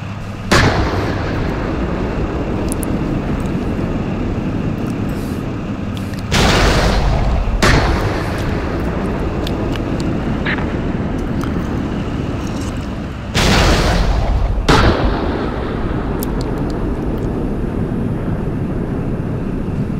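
Gunfire and artillery booms in the Steel Beasts Pro tank simulation, with a steady rumbling battlefield bed broken by several loud, heavy blasts spaced a few seconds apart, no talk.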